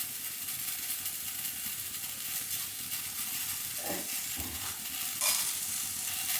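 Mixed vegetables with drumstick stalks sizzle steadily in a frying pan, close and continuous, with a few soft scraping stirs rising briefly above the hiss.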